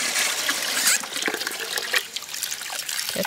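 Glutinous rice being rinsed in water for sweet rice wine, with trickling and sloshing water and splashes as the grains are swirled, close and continuous.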